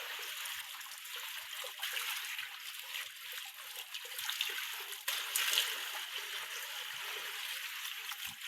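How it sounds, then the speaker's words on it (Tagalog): Fresh water flowing in a stream, a steady broadband rush with small splashes and trickles throughout, fairly close and continuous, with a slightly stronger surge around the middle. "Presko gini guys na tubig."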